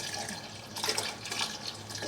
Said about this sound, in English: now I put in the soya milk. This is 1 liter of soya.